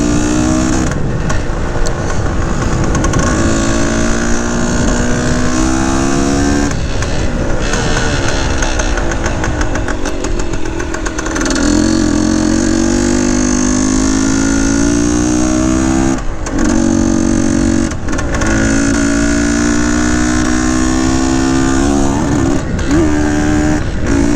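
A 1970 Yamaha RT1 360 two-stroke motorcycle climbs a steep hill at about 35 mph, its engine revving hard at low gears with loud, continuous rising and falling pitch, close and alone.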